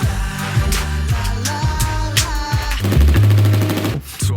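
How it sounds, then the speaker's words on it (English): Rapid bursts of gunfire crack through a loud, pounding music track, shots landing in quick rhythmic volleys among heavy beats and synth tones. "More gunshots."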